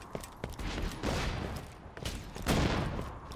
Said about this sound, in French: C'est toi qui me tire dessus.